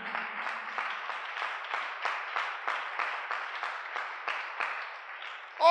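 A church congregation applauds God in a rhythmic group clap, steady and sustained with a regular beat, moderately loud and filling the room.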